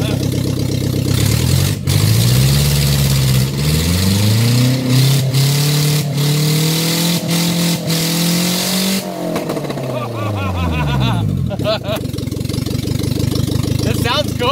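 A Subaru Loyale with a loud exhaust revs hard, the engine note climbing and holding before dropping back toward idle, then blipping again, loud and close throughout.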